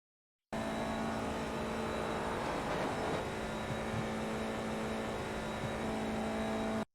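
An FIA F4 race car laps Suzuka circuit with a loud, steady engine drone at high speed. The note holds at a constant pitch and stays close throughout, with no talking.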